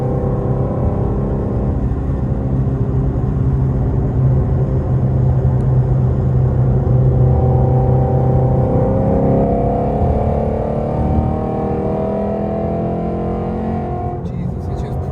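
A Ford Mustang GT350 with the Voodoo engine revs hard under sustained acceleration, a loud, rising engine roar heard from inside the car that builds steadily, with voices talking over it.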